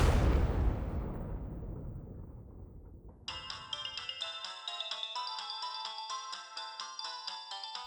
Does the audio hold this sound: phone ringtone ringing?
yes